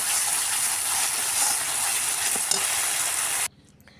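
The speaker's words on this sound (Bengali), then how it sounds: "মশলাটা ভালো করে কষিয়ে নিচ্ছি। জিরে ফোড়ন দিয়ে দিয়েছি, শুকনো লঙ্কা দিয়েছি একটা।" A spice paste of ginger, garlic, onion, cumin and a dried chilli sizzles and crackles loudly in a pan for a few seconds, then cuts off abruptly to near silence.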